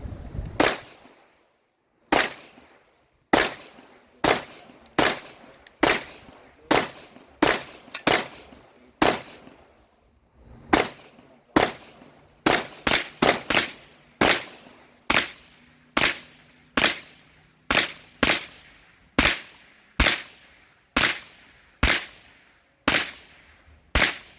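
Gunshots fired at a busy shooting range, a long series of sharp, loud reports with ringing decays, spaced about a second apart and bunching into a quicker burst midway, with no talk.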